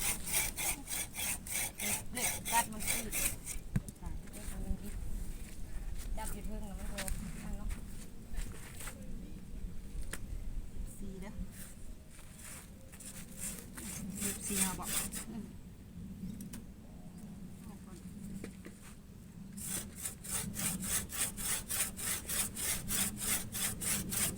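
Hand saw cutting through wood at a building site for a small hut, with steady back-and-forth strokes that pause in the middle and then resume, while people talk in the background.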